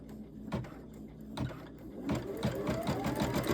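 An embroidery machine stitches a hand towel with a rapid mechanical chatter, punctuated by a few sharp clunks before settling into a steady, busy run of stitching, close and moderately loud.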